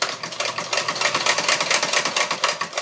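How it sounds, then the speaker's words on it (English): Sewing machine back-stitching a double stitch on a corset, a steady rapid mechanical chatter of the needle running close and fairly loud throughout without pause. "Doing a double stitch, make sure that it doesn't open, it doesn't tear"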